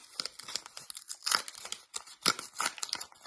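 Close crinkling and rustling of a paper gift bag being unwrapped, with sharp tearing bursts, irregular and fairly quiet.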